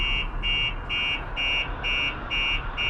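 A Starline S96 alarm fitted to a 2016 Mercedes Sprinter Luton van gives a loud, steady run of evenly pulsed electronic beeps, about one every third of a second, over a low background rumble, no speech.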